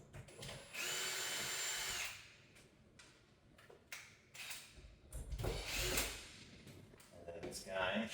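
A power drill whirs loudly in two bursts while backing out cooktop mounting screws during an installation, with a clicking ratchet, handling clatter and faint movement between bursts.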